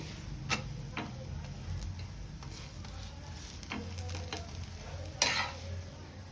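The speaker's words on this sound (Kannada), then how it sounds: "ಮೀಡಿಯಮ್ ಟು ಹೈ ಫ್ಲೇಮಲ್ಲಿ ಇಟ್ಕೊಂಡು ಇದು ಸ್ವಲ್ಪ ನೀವು ಫ್ರೈ ಮಾಡ್ಕೋಬೇಕು" Talipeeth dough frying in a pan over a medium-high flame: soft continuous sizzle with sharp clicks and utensil taps scattered throughout, one louder clatter near the end.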